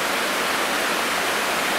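Steady broadband rush of the Ogmore River flowing near Brynmenyn, a continuous even wash of water noise with no pauses and no voices.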